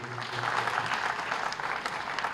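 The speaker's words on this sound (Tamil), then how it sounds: "அதுக்கு ஒட்டுமொத்த ஒரு கைத்தட்டல் வந்து நீங்கள் கொடுத்துடலாம் தயவுசெய்து" Audience applause at a dance school's 35th anniversary celebration on stage, a dense, steady clatter of many hands clapping throughout, fairly loud with no voices over it.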